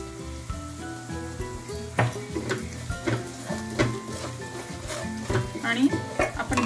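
Onions sautéed in a pan with red chili powder, biryani masala, turmeric and salt for vegetable biryani, giving a steady close sizzle with scraping stir strokes, over a continuous bed of background music.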